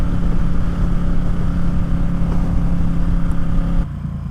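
A Ducati Streetfighter running an Arrow exhaust with no silencer holds a loud, steady engine drone under full throttle, then the level drops sharply near the end as the pull eases off.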